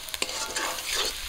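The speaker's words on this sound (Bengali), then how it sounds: "মশলাটাকে একটু ভাজা করে নেব।" Ginger-garlic, black pepper and dry red chilli paste, turmeric and chilli powder fry in hot oil as they are stirred. Brief, close sizzling comes with quick scraping strokes of a spoon in the pan.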